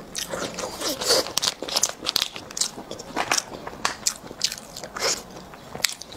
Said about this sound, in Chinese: 它的外边这个是脆，有点脆皮似的香，很脆